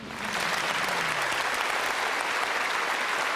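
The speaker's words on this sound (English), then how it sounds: "Well, yeah, you're applauding" A studio audience breaks into applause that swells within a fraction of a second and holds as a steady, dense wash of clapping, fairly distant and even.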